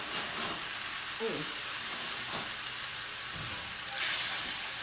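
Bone broth sizzles and simmers in a skillet while burgers cook, a steady close frying hiss with a few brief stirring scrapes; a voice murmurs once.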